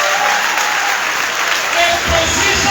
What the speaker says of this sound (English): With a round of applause, let's welcome Mr. John Suwana.